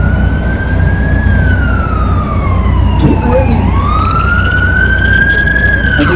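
An ambulance siren wails loudly through a street in Victoria, its pitch sweeping steadily up and down and then dropping as the vehicle passes close by, over heavy traffic rumble, with a person speaking briefly.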